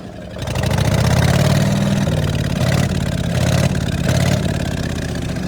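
A Dexheimer 222 tractor engine revs up close, rising from a low idle into a loud, throaty roar that holds with slight surges and then eases back, no voices.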